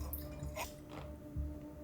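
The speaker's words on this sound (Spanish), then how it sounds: "Sí, sale agua. Cae muy lento" Water drips slowly from an outdoor source at a solo campsite, a few soft, faint drops landing about half a second apart over a quiet, steady background hiss.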